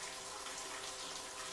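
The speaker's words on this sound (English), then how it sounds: "You see it overflowing from my overhead tank." Water overflows from an overhead storage tank and spills down in a steady, continuous rush, a loud broadband splashing with no break and no talk over it.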